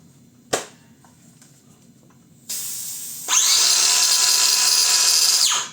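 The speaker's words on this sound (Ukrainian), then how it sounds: "Беру цей акумулятор, ставлю в дискову пилу." A battery-powered cordless circular saw: a sharp click, then the motor spins up to a loud, high whine that holds steady for about two seconds before cutting off, with no voices.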